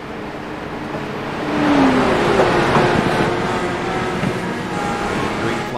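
Stock cars accelerating together in an oval racing video game at Pocono, a dense, rising engine roar with several overlapping revving tones that stays loud and continuous.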